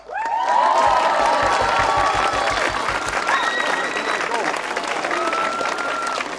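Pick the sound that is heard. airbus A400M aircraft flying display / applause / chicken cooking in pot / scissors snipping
applause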